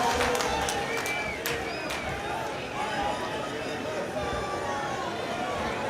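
A large political rally crowd in New Delhi welcomes Rahul Gandhi with a continuous wash of applause and cheering hubbub, dense and fairly loud, while voices carry over the noise.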